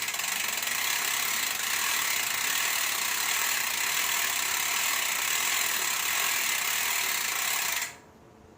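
A Weapon Ambush bicycle freewheel hub spins with a rapid, even buzz of clicking pawls, loud and close, running steadily for about eight seconds before it abruptly stops.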